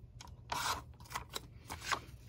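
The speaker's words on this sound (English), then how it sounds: "for this piece, I'm going to cut right at this mark" Scissors cut paper at a marked line while making a Christmas folio with a hidden pocket, giving a few close, crisp snips spread over about two seconds against a quiet room.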